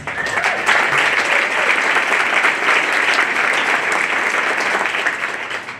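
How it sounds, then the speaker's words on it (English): An audience at an Indivisible CD-5 candidate forum claps and cheers in a dense, sustained burst of applause that holds steady for several seconds before easing slightly at the end. "we did a lot of clapping and we did a lot of cheering"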